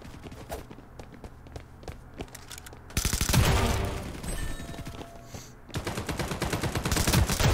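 A Vector SMG fires in Hyper Front, first in scattered single shots, then in loud, rapid automatic bursts that stop briefly and then resume.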